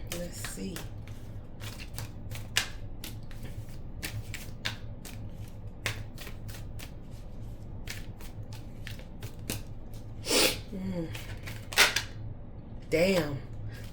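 Tarot cards being shuffled, with quick riffles and sharp snaps close by, then a few louder slaps near the end. A low hum sits underneath.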